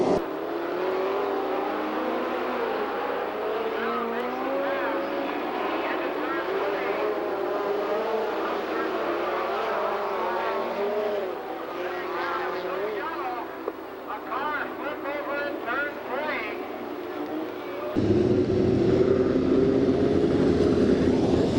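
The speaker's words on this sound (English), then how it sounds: "Your leader now into turn 1, the 15 car, Billy Boat." USAC midget race cars from a 1995 Bakersfield race meeting roar around the track in a continuous engine drone, with an announcer calling the race over it and the sound getting louder and rougher near the end.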